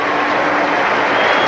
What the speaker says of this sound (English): acknowledging the applause of the crowd.